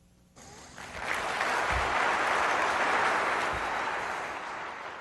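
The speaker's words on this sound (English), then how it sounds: "Y'all can start clapping right here" A seated audience at a humor consultants' anniversary event breaks into applause, rising quickly from quiet into steady, full clapping that holds loud and then slowly tapers.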